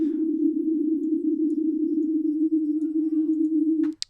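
A steady synth tone runs through the Fruity Chorus effect in FL Studio 12 with a very short delay time, giving a fast, even pulsing wobble that holds for about four seconds and then stops abruptly with a click.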